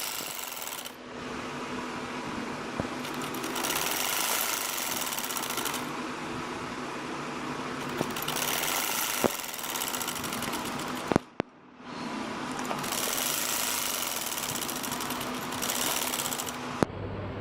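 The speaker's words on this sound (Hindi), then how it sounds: "अब मैं यहाँ से यहाँ इसकी सिलाई करूँगी साड़ी नीचे तक, यहाँ से यहाँ तक सारी सिलाई कर दूँगी" A sewing machine stitching a long kurta seam runs in two sustained bursts, a fast whirring chatter up close with a brief stop near the middle, no voices.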